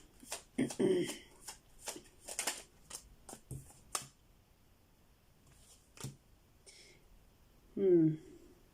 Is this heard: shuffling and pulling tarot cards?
yes